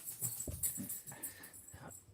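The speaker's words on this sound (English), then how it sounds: "Whose dog is that?" A dog barks a few times from another room downstairs, the sharp yelps fairly faint and muffled beneath a low background hum.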